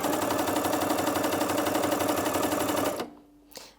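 A Janome CoverPro 3000 coverstitch machine runs at a fast, even rhythmic chatter for about three seconds, then stops abruptly, followed by a faint mechanical click.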